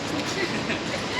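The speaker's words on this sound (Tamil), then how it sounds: "ட்ரெயின் நின்றுருக்குது." A train standing at a station in Mumbai gives off a faint, steady broadband rumble and hiss for a brief moment, with no distinct clicks or horn.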